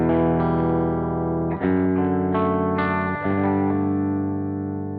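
An electric guitar with a Cream T pickup in full humbucker mode gives a thick, low-mid heavy tone through effects, with sustained chords changing a few times, close and up front.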